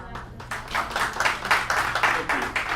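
An audience at a Sunday morning church celebration applauds in a steady burst of clapping that builds and carries on throughout, with voices faintly underneath.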